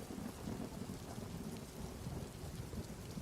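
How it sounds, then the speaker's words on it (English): A thunderstorm sound effect of steady, dense rain with deep rumbling thunder rolling underneath, faint and continuous throughout with no voices. "As if to emphasize Zuko's words, a lightning flashed across the sky."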